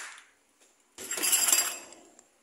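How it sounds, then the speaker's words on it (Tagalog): Drinking glasses clink together as they are taken out, in a bright burst of clattering that lasts about a second after a quiet pause. "Kukuha nga pala din ako ng baso guys."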